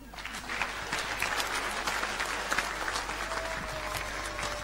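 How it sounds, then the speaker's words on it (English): A crowd gives a big round of applause for children who spoke at a community gathering in New Zealand, steady dense clapping with some individual claps standing out and a low background hum underneath. "One more massive round of applause for all our kids for getting up and talking"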